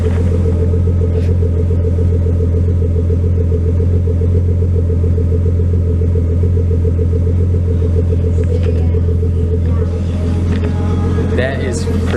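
An RB25DET engine in a 240sx idles steadily through an HKS HiPower exhaust, a deep continuous rumble that holds close and loud throughout, with a faint voice near the end.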